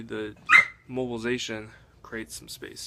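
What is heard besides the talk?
dog barking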